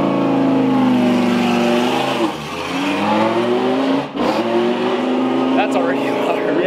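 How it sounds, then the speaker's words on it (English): A Lamborghini with straight pipes revs loudly and drops through downshifts, its engine note rising and falling with a brief dip mid-clip, heard close and continuous. "You'll laugh when you hear the downshifts."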